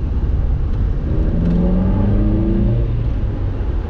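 A Mazda MX5 driving over a bumpy bridge, with a steady engine and road rumble throughout and a rising hum as it rolls across.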